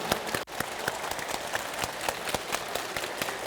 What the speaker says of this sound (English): Okay, clap your hands. Okay, clap around.